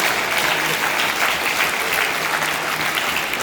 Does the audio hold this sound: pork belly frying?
no